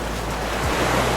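Ocean waves wash onto a wide, shallow sandy beach on Neil Island in the Andamans, a loud continuous surf rush close by with no voices.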